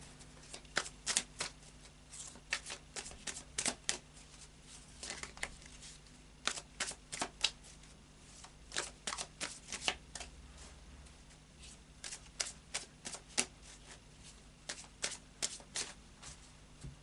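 Gilded Tarot cards shuffled close up, repeated bursts of crisp riffling snaps in uneven clusters separated by brief pauses, steady over the whole stretch with no speech.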